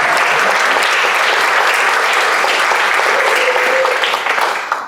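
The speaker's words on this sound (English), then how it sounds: "Let's give a round of applause." Members at a Rotary club meeting applaud new and transferring members. The clapping is loud and dense, holding steady throughout before easing off at the very end.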